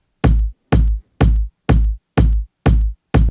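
A drum loop cut from a break plays with a deep bass, seven heavy, evenly spaced booming hits with strong low end, loud and steady with no voices.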